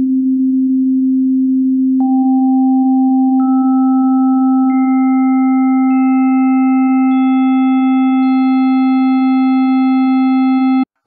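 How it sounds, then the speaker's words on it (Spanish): Synthesized sine tone holds steadily and loudly while higher harmonics at random pitches are added one by one every second or so, stacking into a sustained, increasingly dissonant chord. "ahora vamos a añadir más armónicos al azar y veamos qué pasa"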